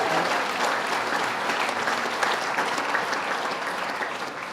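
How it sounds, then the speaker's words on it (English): An audience at the Adirondack Challenge event applauds steadily, a dense continuous clatter of many hands clapping that holds strong throughout and tapers slightly at the end, with no talk over it. "Clap your hands if you had fun today."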